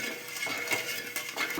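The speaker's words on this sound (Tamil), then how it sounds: "இந்த சர்க்கரை நல்லா கரையிற அளவுக்கு நம்ம கரைச்சி விட்டுக்கிட்டே இருக்கலாம்" Sugar syrup is stirred in a pan for Mysore pak, producing quiet, repeated metallic scrapes and clinks of a spoon against the pan, fairly close and with no voices.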